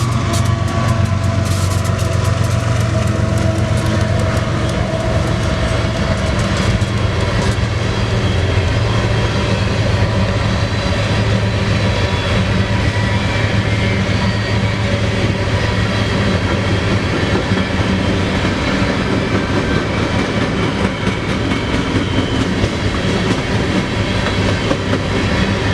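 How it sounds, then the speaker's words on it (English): An eastbound BNSF grain train led by ES44AC locomotive 6180 rolls past in the Spokane Valley, a loud, continuous rumble of engine drone and rhythmic wheel clatter filling the whole stretch without talk. "We have a grain train."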